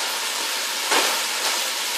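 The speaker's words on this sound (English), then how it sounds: "You can hear it sizzling." Chicken and onions browning in a hot pan for coq au vin give a steady, close hiss with no talk over it. Two brief louder surges break the even sizzle.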